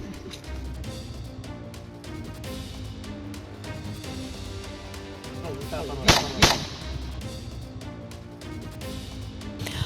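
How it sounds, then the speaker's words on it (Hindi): Two sharp gunshots from a woman firing a gun, loud and close together, ringing out over a steady background of music or mixed noise. "वीडियो वायरल हुई है जिसमें ये फायरिंग करती हुई दिखाई गई है।"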